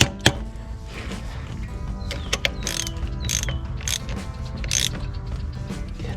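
A starter terminal being refastened on a John Deere 3020 tractor: close, rapid ratcheting clicks from a hand wrench in bursts, with metallic taps and mechanical clatter, no talk.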